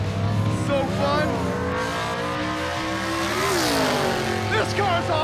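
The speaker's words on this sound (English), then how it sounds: "That was bang shifting right there, man. The clutch slipped, but that was bang shifting." A Roadkill project car accelerates hard with bang shifts, the engine climbing in loud rising revs, dropping at each slammed gear change and climbing again, with a slipping clutch and the front end lifting; a voice talks over it.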